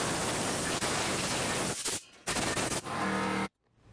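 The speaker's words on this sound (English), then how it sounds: "I'm gonna take our air hose and blow it out" Compressed air hose blowing out ZF S5-42 transmission parts, a loud close hiss in long blasts broken by brief pauses, ending abruptly in near silence.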